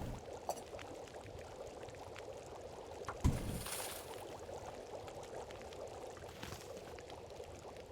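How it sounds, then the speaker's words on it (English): Water pours into a cooking pot in The Long Dark, a single brief splash rising out of quiet ambience, with a faint second pour trailing off a few seconds later. "So let's put water on"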